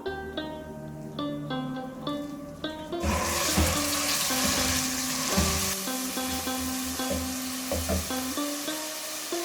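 Musical tones play, then a loud hiss of minced beef hitting hot oil with ginger-garlic paste bursts in and keeps sizzling steadily under the music.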